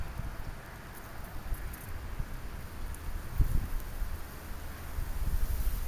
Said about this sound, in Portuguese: Ventando.